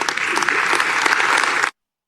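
Brief burst of dense audience applause, steady and fairly loud, cutting off abruptly after under two seconds into silence.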